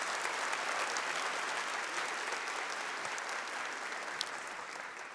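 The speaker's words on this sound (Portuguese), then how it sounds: "Aplauda a palavra de Deus" Sustained applause from a Catholic church congregation, many hands clapping in a steady, dense wash at a moderate distance, fairly soft and without talking.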